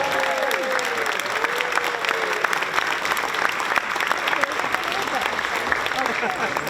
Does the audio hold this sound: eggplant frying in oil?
no